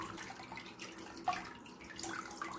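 Raw beef for basturma rinsed in water, with soft sloshing and trickling splashes, a small distinct splash in the middle and gentle liquid movement around it, fairly quiet and close.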